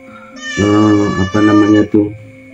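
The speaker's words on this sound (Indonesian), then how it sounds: "ada bunyi kucing meong ya" A domestic cat meows loudly and close by, giving one long drawn-out call with a couple of short breaks, heard alone against a quiet background.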